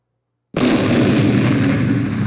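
An animated perforating gun firing inside a cased oil well, a sudden loud blast that sustains as a dense, roaring rumble after a moment of silence.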